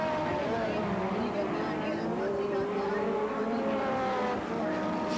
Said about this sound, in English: the 9 car just bolts off of turn number 2